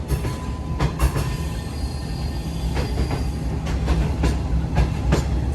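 Newly refurbished, newly painted Pakistani train bound for Karachi rolling past, steady rumble with repeated rhythmic wheel clacks and brief metallic squeals, fairly close and continuous, with no talk.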